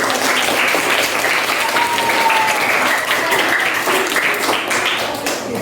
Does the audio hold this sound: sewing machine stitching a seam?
no